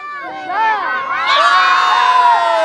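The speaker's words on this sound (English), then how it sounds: "Come on, cheer him on!" Children at a YMCA day camp cheer loudly for a player with a burst of shouts and whoops, the crowd noise swelling and holding near and strong.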